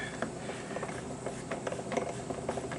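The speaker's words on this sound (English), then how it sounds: "we're going to take these and tighten them down by hand" Plastic headlight fasteners on a 2008-2012 Subaru WRX get tightened by hand, giving a dense run of small mechanical ratcheting clicks and rattles. The ticks come close and steady throughout, with no talk over them.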